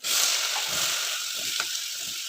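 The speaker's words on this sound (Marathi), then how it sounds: "आणि बटर बटर आहे त्यात कांदा घालून घ्यायचा" Chopped onion sizzling in butter and a little oil for pav bhaji, a loud steady hiss that stays close and constant from start to finish with faint stirring knocks underneath.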